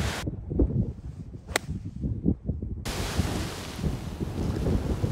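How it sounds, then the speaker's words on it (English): Strong wind gusting across an open golf course, a loud continuous roar buffeting the microphone with a brief whipping crack and a sudden surge that stays heavy to the end. "Can't believe how strong the wind is."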